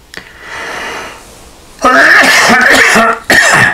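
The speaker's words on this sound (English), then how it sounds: "As you're coughing, notice what..." A couple of loud, harsh coughs break out near the mic, one long burst followed by a shorter one, with quieter breathing beforehand.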